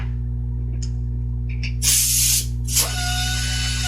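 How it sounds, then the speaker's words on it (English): A KATO Prewinder air tool for tangless and Helicoil inserts, fed by an air hose with its air motor running in reverse: a steady low hum, then loud bursts of hissing air and a whirring spin that carry on to the end. "Connecting the air hose will cause the air motor to run in reverse or counterclockwise."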